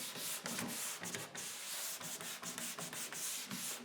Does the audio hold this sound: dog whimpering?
no